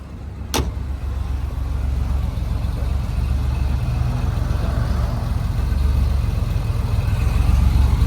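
A car engine idles steadily with the trunk open, a low continuous rumble that holds even and close throughout, with one brief sharp click near the start.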